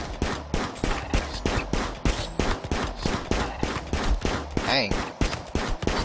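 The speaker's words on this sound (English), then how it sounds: "I don't know how many bullets that I have to shoot one animal." Repeated gunfire in RimWorld as a colonist shoots at a turtle: sharp, loud shots at a rapid, fairly even rhythm through the whole stretch, with a brief spoken exclamation near the end.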